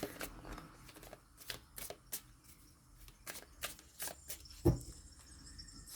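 Tarot cards drawn from a deck and laid down on a table during a reading, giving a series of soft, close slaps and shuffles with one sharper tap near the end, with no voices.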